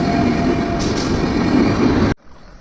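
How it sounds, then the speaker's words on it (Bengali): A train rumbles steadily and loudly past a forest railway crossing in the Dooars, a continuous roar that cuts off abruptly after about two seconds. "ওই ট্রেন আসছে, দূরে দেখা যাচ্ছে"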